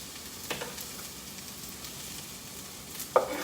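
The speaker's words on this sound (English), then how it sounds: "So now we're gonna add the onion, because I don't like raw onions. So we're gonna let them fry with that." Onions frying in a pan for a Tex-Mex style breakfast, a faint, steady sizzle with a few soft clicks of stirring, close by and without talk.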